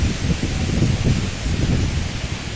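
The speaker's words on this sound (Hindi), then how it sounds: "देखो कितनी तेज़ आंधी आ रखी है" A strong windstorm roars in broad, gusty bursts with rustling debris, close and continuous, heard outdoors just before heavy rain.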